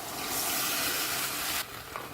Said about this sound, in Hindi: तो ये लिक्विड इसमें डाल दूँगी।